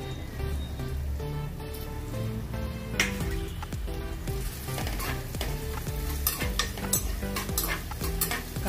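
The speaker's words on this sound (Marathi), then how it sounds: "फोडणीसाठी आपण हा बारीक चिरलेला कांदा सोडणार आहोत।" Finely chopped onion fries in hot oil as tempering for a village-style mutton dish, giving a steady, close crackling sizzle with repeated stirring scrapes and pan knocks throughout, no voices.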